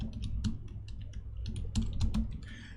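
Typing on a computer keyboard during a livestream, with bursts of quick clicking keystrokes close by, irregular and uneven, over a steady low background hum.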